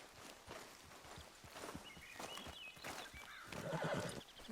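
A horse in Red Dead Redemption 2 whinnies with a bright rising call near the end, after a run of soft hoof clops and footsteps on the ground under game ambience.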